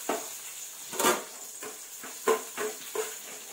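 Garlic dropped into hot oil with popped mustard seeds, a soft continuous sizzle broken by several sharp scraping stirs and clinks of a spoon against the pan, close and fairly quiet.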